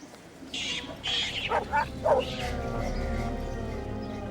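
Dogs bark and yip in short bursts over a steady outdoor background hum, with a few sharp whimpering yelps close by before the sounds settle into a low continuous din.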